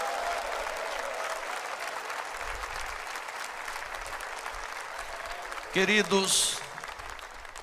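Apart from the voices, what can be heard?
congregation applauding for Jesus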